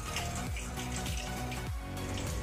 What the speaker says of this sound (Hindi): देखिए फ्रेंड्स पानी इसमें आ रहा है।